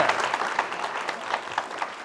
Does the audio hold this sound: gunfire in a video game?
no